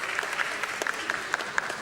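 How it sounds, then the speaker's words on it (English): An audience at a women-in-business panel discussion applauds warmly, a steady even patter of many hands with a few sharper nearby claps standing out. "Could we have a very warm applause, please?"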